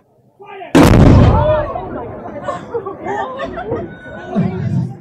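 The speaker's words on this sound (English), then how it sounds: "I hope the cannon was loud enough for you" A single loud cannon blast booms across Malta's Grand Harbour and rolls away, followed by a crowd murmuring and chattering nearby.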